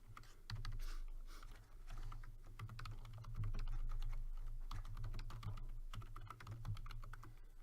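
Steady typing on a computer keyboard, a rapid run of close, crisp key clicks continuing throughout over a low hum, with no voices.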